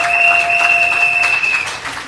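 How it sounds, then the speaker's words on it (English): A crowd at a political rally in Trinidad applauds in a short loud burst, with a steady whistle-like tone ringing over the clapping. "Get a round of applause."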